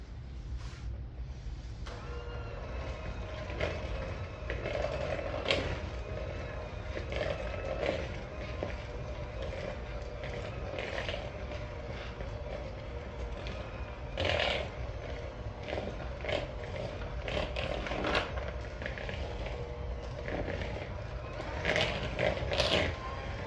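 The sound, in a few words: electric mixer mixing cheese bread dough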